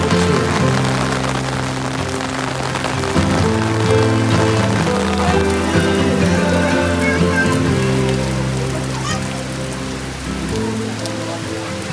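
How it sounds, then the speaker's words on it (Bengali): Heavy rain pours down at Golitar View Point in Nepal, a dense, loud and continuous roar of drops drumming on nearby surfaces that holds steady throughout, with no one speaking. "প্রচণ্ড জোরে বৃষ্টি হচ্ছে"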